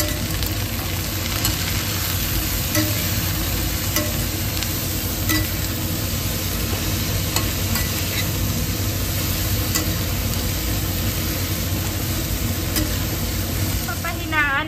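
Steady, loud sizzling of Indian food with pepper frying in a pan, with scraping and clinking of a utensil stirring, continuous throughout with a low background hum.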